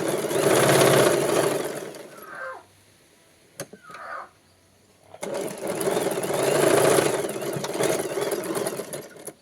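A sewing machine runs in two long bursts, double-stitching the shoulder seams of a girl's frock, with a short quiet pause between the runs. The motor whirrs steadily and close.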